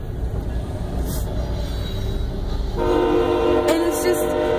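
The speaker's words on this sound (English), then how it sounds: "hello, train." A passing train rumbles along steadily, then sounds its horn, a loud sustained blast in the second half with brief higher bursts, close and dominant with no talk.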